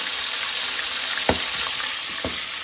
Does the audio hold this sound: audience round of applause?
no